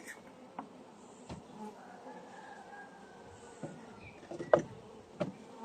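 Bees hum and buzz around a beehive of a colony inclined to swarm, a steady close drone with a few scattered knocks and thumps.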